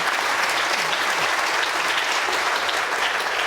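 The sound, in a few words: applause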